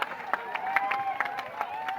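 An audience claps at the Basaveshwara village fair in Reddera Hatti, Athani taluk. Moderate crowd applause comes in uneven pulses beneath an amplified voice that keeps talking over it.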